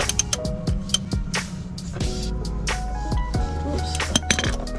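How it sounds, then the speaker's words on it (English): A size 17 socket undoes a bolt during an engine oil change on a Mitsubishi Pajero 4WD, giving scattered sharp metallic clinks and clicks over a steady low background hum. "Alright, so we're just undoing this bolt here."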